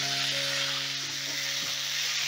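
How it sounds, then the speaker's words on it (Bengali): Broccoli florets sizzle in leftover potato-frying oil, a steady bright crackle and hiss held throughout with a faint stirring scrape and low kitchen hum. "এবারে আলু ভাজার তেলেই আমি কফিগুলো ভেজে নেব।"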